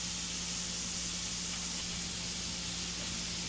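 Large burgers sizzling in a frying pan over medium-high heat produce a steady, close hiss of fat crackling that stays even throughout, without voices.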